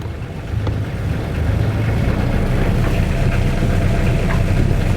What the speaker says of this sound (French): On appuie sur le bouton au milieu et on monte dans les tours.